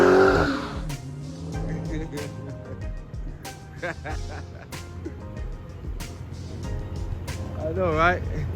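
Idling car being revved in the morning ahead of a mid muffler delete, the engine rising and falling in a steady throaty drone with sharp clicks, while people talk over it nearby.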